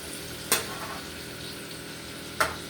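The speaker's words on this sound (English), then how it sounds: "we're going to try to stir these around a little bit." Marinated steak, vegetables, garlic and onions frying in a pan, a steady soft sizzle with two sharp scraping stirs of a utensil, close and alone.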